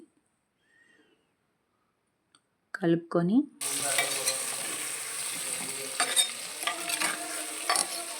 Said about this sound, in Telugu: ముక్కలుగా కట్ చేసుకున్న టొమాటో ముక్కలు అన్నీ వేసి ఒకసారి కలుపుకోవాలండి